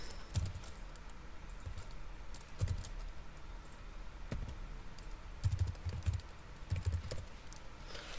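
Keys clack on a computer keyboard as a short web address is typed into a browser, a few scattered quiet clicks in small bursts against a faint room hum.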